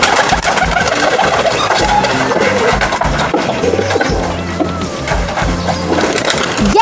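Pigeon cooing in a loud, busy recording, with soft repeated low calls running steadily throughout, partly masked by other dense sound.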